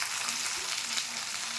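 Potatoes frying in hot oil for a morola fish curry after beans were fried, making a continuous close crackling sizzle across the whole brief moment with no speech.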